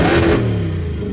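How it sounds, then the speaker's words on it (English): A Charger with a swapped-in 392 engine revs loudly up close, a strong burst of engine roar that eases into a lower, steady hum, with no voices. "Let's see what happens when we rev it."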